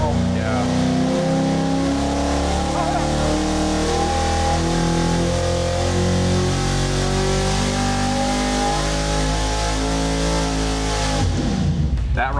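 Supercharged engine of a 1972 Chevrolet C10 pickup roaring at full load on a dynamometer, a loud, steady, harmonic drone that climbs through the run and cuts off abruptly near the end.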